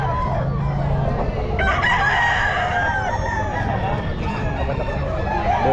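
Stag roosters crow loudly at the Bocaue pet market, with harmonic calls rising over a constant din of crowd chatter and other fowl.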